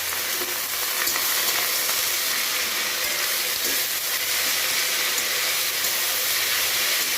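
Jute leaves frying in a pan with turmeric and salt give a loud, steady sizzle and hiss, close up and continuous, with faint stirring scrapes under the crackle and no talking.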